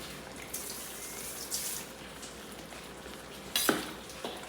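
Pork paksiw na pata simmers and sizzles in a pan while being stirred, a steady bubbling hiss broken by a few scraping clatters of the utensil.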